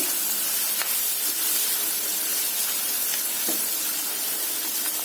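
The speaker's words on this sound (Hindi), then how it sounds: "सारी प्याज डालने के बाद अब हम प्याज को रोस्ट करेंगे।" Onions roasting in a pan with fennel and turmeric over very low flame, a steady hissing sizzle with faint scattered pops, close and continuous without speech.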